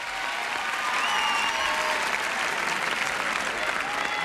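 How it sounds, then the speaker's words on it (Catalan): An audience at the final of a Catalan spelling contest gives a contestant loud, sustained applause, a dense, even clatter of many hands clapping. "un aplaudiment molt fort per ella"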